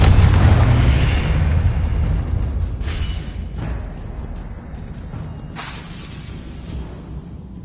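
Confringo blasting spell in the Hogwarts Legacy video game erupts in a loud, deep booming explosion that rumbles and slowly decays, followed by a few sharper whooshing bursts and lingering low rumble, with no talking.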